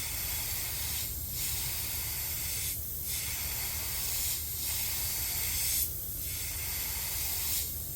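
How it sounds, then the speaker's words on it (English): A spray can hisses continuously, with the sound swelling and dipping in regular sweeps, close and fairly quiet, with no talking. "So what's happening is that it sprays a cone. Okay, so I'm spraying over the top."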